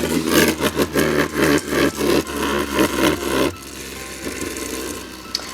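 A Hasbro Beyblade Burst Caynox C3 top launched with a rapid rasping ratchet, then spinning on its bearing with a quieter steady scraping whir, close by.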